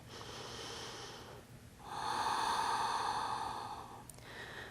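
Slow, deep breaths drawn during a prenatal yoga pose, with a long audible inhale or exhale through the nose, followed by another, close and steady with no talking.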